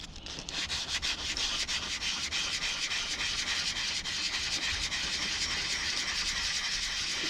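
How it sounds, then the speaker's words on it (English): Hand sanding a turned wooden wand with sandpaper produces a continuous, steady, close rasping rub that sounds almost like a rolling hiss and holds an even loudness throughout. "So I figure I'd sand a little bit on the video camera."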